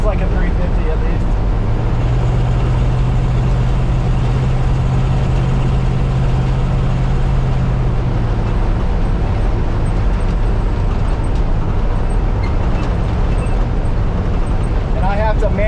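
A 1962 Chevrolet C10 truck with what sounds like a 350 V8 runs as it rolls downhill, its low engine rumble steady and close, with a droning tone for the first half and a voice heard faintly over it.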